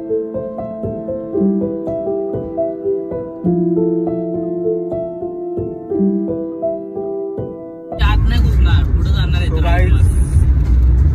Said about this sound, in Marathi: शांतनूने फायनली गाडी काढली आहे आणि आपण चाललोय कर्जतला फार्म हाऊसला